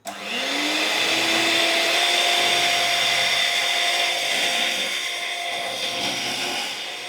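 Electric mixer beating cream (malai) for homemade ice cream, a steady high whirring motor that rises in pitch at the start and runs loud and continuous for several seconds with no talking.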